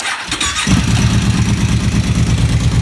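A Kawasaki KVF 650 ATV engine with an odd noise starts after a brief crank and settles into a loud, steady, rough idle, heard close up inside a garage.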